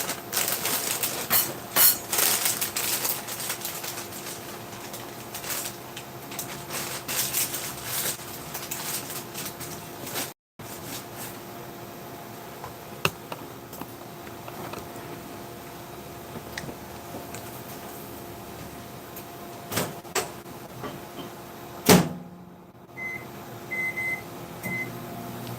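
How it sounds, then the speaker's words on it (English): Microwave oven heating a self-heating military ration entree, a steady low hum with faint clicks and a short beep near the end, alone without talk. "I'm gonna toss this entree into the microwave."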